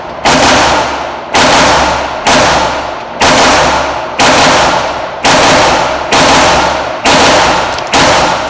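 A GLFA Synergy gel blaster fires at a range in loud, sharp paired double-tap shots, each pair followed by a brief pause, about eight sharp cracks in steady rhythm, near and dominant with no talk.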